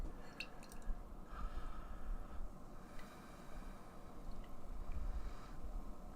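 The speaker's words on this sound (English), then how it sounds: "let's pour this guy and see what this thing's all about in the pour." Hazy double dry-hopped IPA poured into a glass: a steady low liquid rush with faint splashy drips and fizz, close and continuous for several seconds with no talking.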